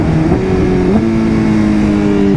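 A BMW S1000RR sport motorcycle in sixth gear at very high speed gives a loud, close engine howl that climbs and holds high pitch over steady wind roar.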